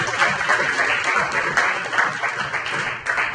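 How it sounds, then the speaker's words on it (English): Audience applause at a colloquium panel on law enforcement and citizen relations, a continuous round of clapping from the room that holds steady throughout at moderate loudness. "Let's give a nice round of applause to Onida Coward-Mayer."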